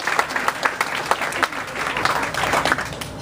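Audience at a Democratic political gathering in Arlington clapping, a moderately loud burst of mixed applause with uneven individual claps standing out across a few seconds.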